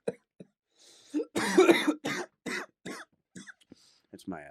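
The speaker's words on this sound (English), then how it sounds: "It's my health cough." A few short, sharp coughs and throat-clearing bursts, close and fairly loud, scattered across a few seconds with quiet gaps between them.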